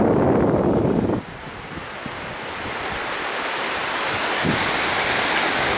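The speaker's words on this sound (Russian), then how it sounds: "Ну вот мы и добрались на пляж Палалем, да?" Surf rolls in at Palolem Beach in Goa, India, a loud wash of breaking waves at first that gives way to steady wind rushing over the microphone and the softer, continuous roar of the sea.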